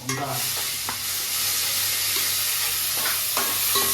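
A potato filling with turmeric sautés in a pan for patties, giving a steady, close, crackling sizzle throughout with a few soft stirring scrapes and no talking.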